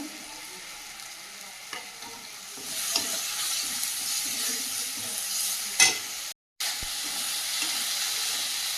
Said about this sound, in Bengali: ভালো করে ভেজে নেব টমেটোটা পরিমাণ মতো ধনিয়া গুঁড়ো দিয়ে দেব